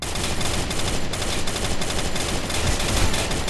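Rapid FAMAS gunfire from the Free Fire video game rattles in dense, loud bursts of automatic shots, nearly continuous across the whole stretch, with no voices.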